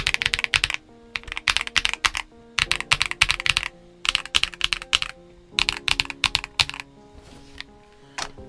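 Fast typing on a GAS67 mechanical keyboard fitted with poppy, clacky switches: crisp, close keystrokes come in quick bursts with short pauses between them, and no voices are heard.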